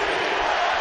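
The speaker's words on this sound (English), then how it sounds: "Crowd loving it." Basketball arena crowd roaring steadily during a late-game NBA moment between the Los Angeles Clippers and Indiana Pacers, a dense, continuous wash of cheering voices with no break.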